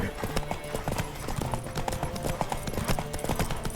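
A horse's hooves clip-clop in a rapid, steady galloping rhythm in The Witcher 3, dense and continuous over a busy game soundscape.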